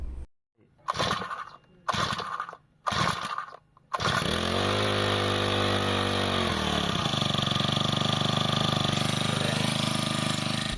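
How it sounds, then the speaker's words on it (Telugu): A few short pulls of a starter cord, then the small petrol engine of a Haritha GX35 power sprayer roars to life and runs loudly and steadily, its pitch dropping slightly as it settles. "ఇప్పుడు ఇంజిన్ అయితే మనం స్టార్ట్ చేద్దాం"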